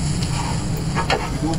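Vegetable and egg fried rice hisses steadily in a hot pan as it is stirred, a constant close sizzle with faint scraping touches and no voice over it.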